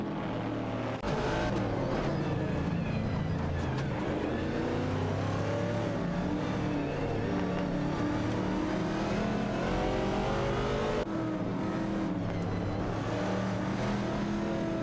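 Race cars in a video game race, a Ford Falcon battling a Ford Mustang Boss for position, engines revving loud and continuous with rising and falling pitch as gears shift, no voices.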